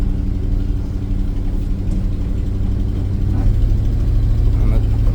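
A 1977 Dodge engine runs steadily with a low, even rumble and slight rise in intensity toward the end, close and continuous.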